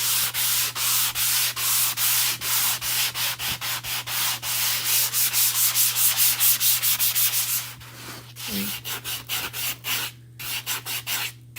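A wooden cutting board is sanded by hand to smooth rough spots, with steady, loud back-and-forth rasping strokes in a regular rhythm, close up and alone, briefly pausing near the end.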